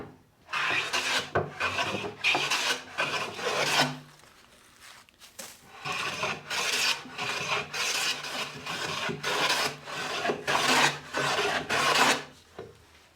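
Hand plane flattening a new wooden workbench top with a waxed sole: repeated long rasping strokes, about a dozen in steady rhythm, close and fairly loud, with brief pauses between passes.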